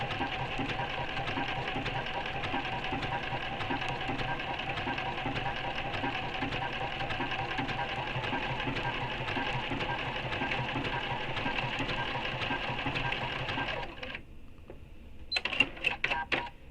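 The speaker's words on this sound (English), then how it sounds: "allow it to feed the fabric back and forth, because those decorative stitches do a lot of moving" A BERNINA sewing machine runs decorative topstitching in a fast, even mechanical chatter that stays steady for most of the stretch, then stops, followed by a few brief clicks and handling sounds.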